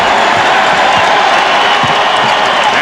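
Crowd applause and cheering for the Knicks in a basketball arena during a 1995 game against the Suns, a steady dense roar of clapping under faint commentary.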